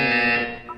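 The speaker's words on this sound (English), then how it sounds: "When you hear the buzzer, look up at the ceiling." A loud electronic buzzer from the Portal 2 video game sounds as a single steady harsh tone that fades and ends with a brief higher blip, with no voices.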